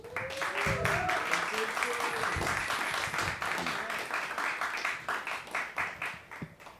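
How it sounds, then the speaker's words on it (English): Audience applause during a Berklee presentation, clapping building into a dense wash while voices and sound from a video call come through early on, then thinning out into scattered claps near the end. "give him a warm applause immediately for Tareq Rantisi"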